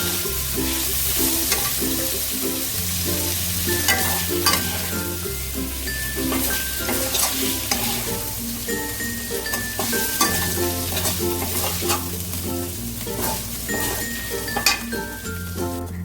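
Chicken pieces sizzle and fry in a metal wok while a spatula stirs them repeatedly, giving clinks and scrapes against the pan over a steady hiss, close up, during mixed fried rice preparation.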